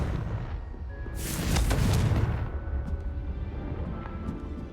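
A Confringo fire spell in Hogwarts Legacy bursts in a deep, rumbling explosion that swells and then trails off into a low roar, loud and close, with no talking.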